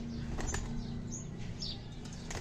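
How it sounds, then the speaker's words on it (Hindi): Pigeons' wings flutter in a few short bursts as they are released outside, over a steady outdoor hum, with faint chirps nearby. "ये कबूतरों को हमने बाहर छोड़ दिया"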